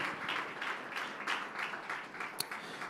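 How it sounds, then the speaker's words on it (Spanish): Church congregation applauding in praise during a service, a moderate, fairly distant patter of hand claps in loose waves, with a faint voice or two underneath and one sharper clap near the end. "Ese aplauso es de alabanza para el Señor."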